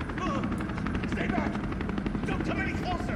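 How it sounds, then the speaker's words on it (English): Helicopter rotor chop in Resident Evil 3, a steady broadband whirring throughout, mixed with game sounds and talk over it. "There's a helicopter waiting to take"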